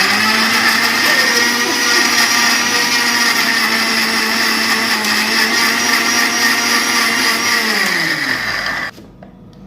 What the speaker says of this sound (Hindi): इसमें फॉल्ट मशीन का है, क्योंकि इसमें हो रहा है मेरा मसाला ग्राइंड